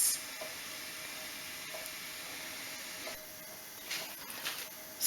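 Meat stewing in a pressure cooker, steady soft steam hiss that holds at an even level with a few brief louder puffs near the end.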